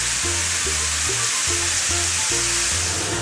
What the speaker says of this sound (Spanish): primero sofreímos bien la zanahoria